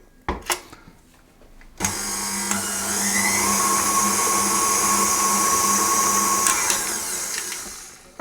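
An electric mixer creams lemon cookie dough with golden syrup and lemon extract, whirring loud and close after a few clicks, holding a steady high drone for several seconds before tapering off.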